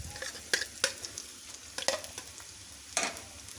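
Onions fry in half a cup of hot ghee, giving a soft, steady sizzle broken by scattered sharp clicks and pops as the pan is stirred.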